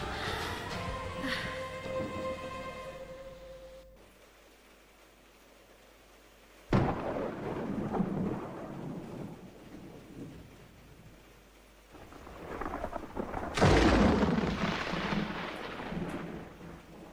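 A thunderstorm rolls through with steady rain, and sharp thunder cracks break out twice before lingering rumbles give way to heavy downpour noise.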